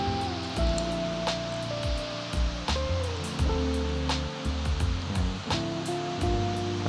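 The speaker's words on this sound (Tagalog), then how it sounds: "Record natin habang pinapatak ko yung tubig." Water splashes and trickles steadily close by, a continuous wet rush with small drip-like ticks scattered through it and no voices.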